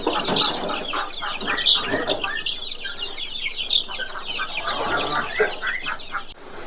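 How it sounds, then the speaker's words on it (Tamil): A flock of chickens and young chicks clucking and cheeping busily at a farm, a loud, close, continuous chatter of overlapping calls with occasional sharper clucks and no talking. "கோழி குஞ்சுகள் வந்து 38 குஞ்சு அவைலபிளாக இருக்குது"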